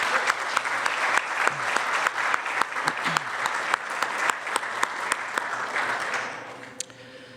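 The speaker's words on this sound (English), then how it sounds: "Please join me in a round of applause for all of our sponsors." A crowd at a law school reunion party applauds steadily with dense clapping for several seconds, then the clapping thins out and fades to a few scattered claps.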